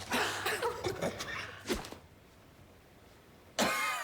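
Several short coughs and throat-clearing sounds up close, then a pause and another sharp cough at the end.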